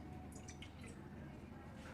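Three-quarters of a cup of water poured into a pan for sugar syrup, faint trickling and dripping splashes over a low kitchen background, with no talk.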